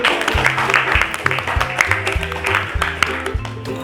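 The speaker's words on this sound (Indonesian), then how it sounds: "terima kasih, tepuk tangan" Audience clapping at a sociology discussion session, a dense continuous patter of many hands under low rhythmic thumping and faint background voices.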